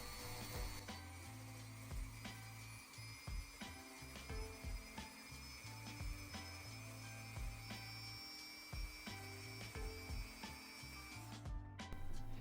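Steady buzzing of a small rotary tool shaving glue off a fishing lure's belly, with repeated short scraping passes, close up and continuous.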